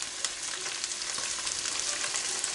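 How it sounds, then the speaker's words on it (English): Garlic and mixed vegetables stir-fried in a pan for Thai prawn lime noodles: a loud, continuous sizzle with a few scraping stirs, and no one talking. "And give this good stir fry."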